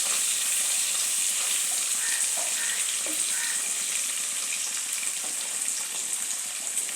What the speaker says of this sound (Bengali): চর্বিটা একটু ভাজা ভাজা হয়ে যাক।